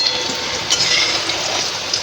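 Prawns coated in salt and turmeric frying in oil, a close, steady crackling sizzle with small pops throughout and no talk.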